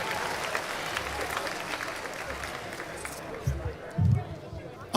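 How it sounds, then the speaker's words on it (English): Applause from the audience at a school of architecture and design graduation ceremony: a sustained wash of clapping hands from a large crowd, with a few louder claps near the end. "Let's give one more round of applause to Kaylin"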